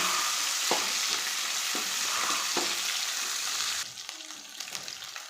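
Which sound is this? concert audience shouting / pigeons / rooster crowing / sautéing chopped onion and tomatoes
sautéing chopped onion and tomatoes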